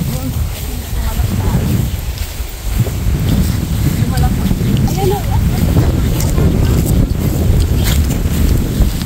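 Steady outdoor wind buffeting the microphone in a wide open place, a constant loud low rumble with gusts throughout and faint voices underneath.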